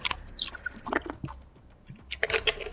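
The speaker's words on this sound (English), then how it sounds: "Just hear every gulp." Someone drinking water with quiet, close, wet gulping and swallowing sounds in a few irregular bursts, with soft mouth noises between them.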